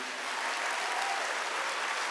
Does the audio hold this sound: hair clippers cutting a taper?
no